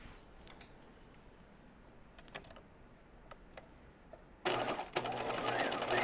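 A sewing machine stitches a narrow zigzag seam on cigarette pants with a 5/8-inch seam allowance. A few quiet ticks and clicks come first, then the machine runs loud and steady from about two-thirds of the way through.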